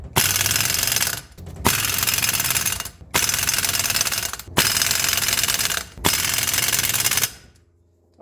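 Wheel nuts being tightened on a 1985 Mercedes 300SD in a star pattern, heard as five loud, harsh mechanical bursts of roughly a second and a half each, separated by short gaps before silence.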